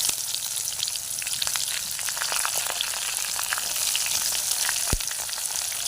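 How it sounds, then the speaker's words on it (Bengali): Onions frying in a pan after chicken meat, giving a close, continuous sizzle with scattered pops and light stirring scrapes, moderately loud with no talk. "পেঁয়াজটা একটু ভেজে নিই"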